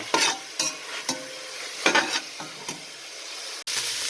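Onions being stirred and tossed in a hot pan while making nachos, with repeated scraping strokes over a steady close sizzle of frying.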